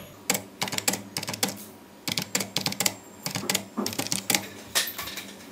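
Someone types on a computer keyboard in Typing Master practice, producing quick, close, clattering bursts of keystrokes separated by brief pauses.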